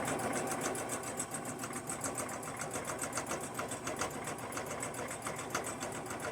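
A sewing machine runs steadily throughout, stitching a leftover Sunbonnet Sue quilt block into a mug rug with a fast, even rhythmic chatter that is close and continuous, with no talking.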